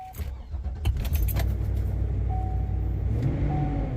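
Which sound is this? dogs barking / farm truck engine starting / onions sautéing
farm truck engine starting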